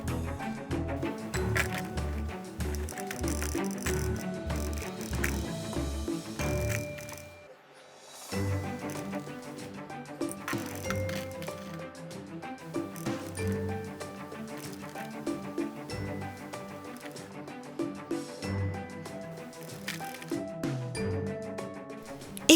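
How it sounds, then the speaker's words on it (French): Shopkins toys clatter into a toy dispenser machine in a dense rattling cascade of small plastic pieces. A rhythmic run of knocks comes first, then a brief lull, then more pouring and clinking that continues to the end. "nous allons remplir notre distributeur de tous ces Shopkins"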